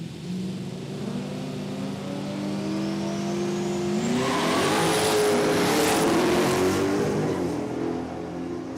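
Toyota Supra drag car launching down an eighth-mile strip at an Australian drag racing event, its engine note rising steadily in pitch and growing louder into a roaring high-rev pass, with a brief spoken word early on.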